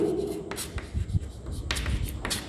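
A marker or chalk scratches across a board in an electrician theory class, giving several short, close, raspy writing strokes with pauses between them, alongside faint voice sounds.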